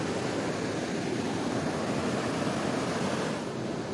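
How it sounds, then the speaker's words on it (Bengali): Loud, steady rushing of river water at Jhalong in the Dooars, a dense unbroken roar with no pauses and no voices over it. "এখানে খুব জোরে কথা বলতে হচ্ছে, কারণ জলের প্রচণ্ড আওয়াজ হচ্ছে"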